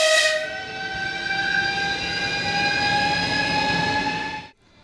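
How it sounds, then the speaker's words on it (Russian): A commuter train passes at Bitsa railway platform, loud and near with a steady rolling roar and a sustained sharp whistle-like squeal that fades out abruptly at the end. "Платформа Битца. Поезда следуют один за другим."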